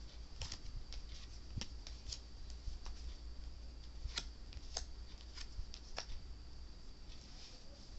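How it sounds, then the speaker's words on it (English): Tarot cards are shuffled and cut close up, a soft riffling texture broken by sharp little snaps and taps at irregular intervals, with no talking. "And shuffle it 2 more times and cut it, and we will begin."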